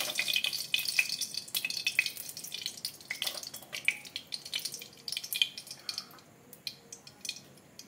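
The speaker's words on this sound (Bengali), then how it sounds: "গ্যাসে কড়া বসিয়ে দিয়েছি, গরমও হয়ে গেছে। দেবো সর্ষের তেল।" Mustard oil is poured into a hot wok over a gas flame, giving a wet, crackly spattering with irregular drips and sizzles, close and continuous without speech.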